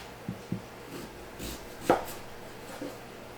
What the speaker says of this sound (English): So I'm just going to cube them up and then just roast them.